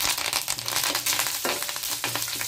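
Mustard seeds, lentils, cumin and curry leaves sputter and crackle steadily in hot oil for an Andhra-style beetroot chutney tempering, a close, dense sizzle with scattered pops.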